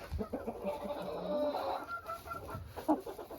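Dwarf Cochin hen clucking in soft, repeated low calls over several seconds, close by, with faint rustling and handling noises around it in a wintry coop setting.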